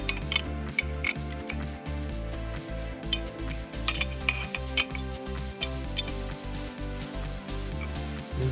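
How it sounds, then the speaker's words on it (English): 14mm wrench tightening the strut top hat nuts during a Toyota Highlander lift install, a quick ratcheting rhythm of clicks with occasional metallic clinks, close and fairly quiet. "use that final wrench, 14mm, to tighten the final nuts down"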